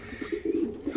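Racing pigeons cooing in their loft, a short run of soft, rhythmic low coos close by, with no talk.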